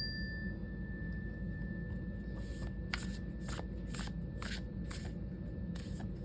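An oracle card deck is shuffled close up over a steady low background hum, with about eight quick riffling bursts in a loose rhythm in the second half.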